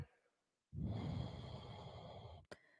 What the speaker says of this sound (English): Steady breathing. Intentional breathing.